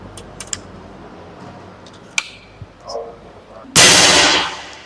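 A few small clicks and metallic ticks, then a single sharp, loud shot from an FX Airguns PCP air rifle with a hissing burst that fades over a second.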